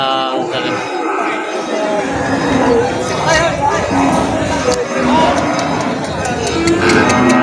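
A water buffalo moos in deep, drawn-out calls over a busy crowd murmuring and chatting nearby at a livestock sale.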